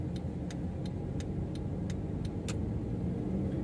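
Inside the cabin of a basic-trim Honda Freed facelift on a test drive, a steady low road and engine rumble fills the space, with faint, evenly spaced light ticks above it and no talking.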